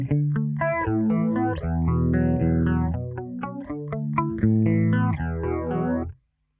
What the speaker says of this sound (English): Resonance will further enhance the amplitude and sound of the phasing effect.